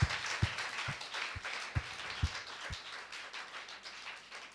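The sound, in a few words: congregation clapping loudly in praise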